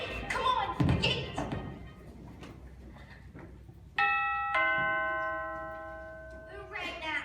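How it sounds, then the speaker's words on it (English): A doorbell chimes at the Emerald City gate, a bright, sustained multi-tone ring that follows a thud and then slowly fades; voices and movement come before it. "Who rang that bell?"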